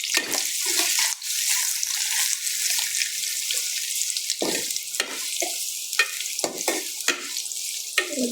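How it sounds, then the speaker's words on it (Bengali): Three medium chopped onions frying in fully heated oil, a steady loud sizzle with occasional stirring scrapes and clatters of the spoon in the pan, with no talking. "তেলটা পুরো গরম হয়ে গেছে, এখন আমি মিডিয়াম সাইজের 3টা কুচানো পেঁয়াজ দিয়ে দিই।"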